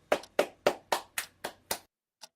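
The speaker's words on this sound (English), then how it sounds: "Daisy clapped her hands." Seven crisp hand claps in a steady, brisk rhythm, close and clear, followed by a short pause and one faint final tap.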